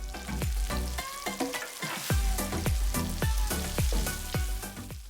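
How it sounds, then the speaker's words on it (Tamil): Whole spices such as cinnamon, cloves, cardamom and mace sizzle loudly in hot oil for a mushroom biryani, with repeated stirring scrapes against the pan and no voices. "cinnamon, cloves, cardamom and the mace எல்லாத்தையும் போட்டு வடிவாக மிக்ஸ் பண்ணுங்க."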